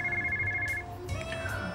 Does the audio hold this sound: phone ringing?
yes